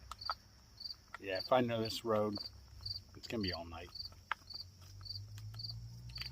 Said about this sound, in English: Crickets are what you're supposed to hear when you're out camping